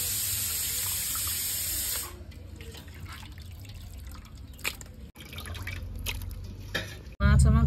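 Tap water running into a sink while lote fish are washed, a loud steady splashing rush for two seconds, then quieter trickling, dripping and handling noises with soft clatters, ending in a sudden heavy gush.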